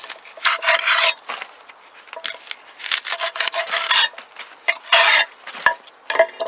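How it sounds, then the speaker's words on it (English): A knife chops and scrapes the leafy tops off a freshly harvested garden leek, giving a string of crisp, close rasping cuts in uneven bursts with short quiet gaps between them. "Then we take the other end and we chop the leaves off."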